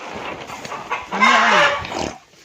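A black hen clucks nearby in a village setting, a rising-falling squawk in the middle with scattered clucks around it, fairly loud against outdoor background noise.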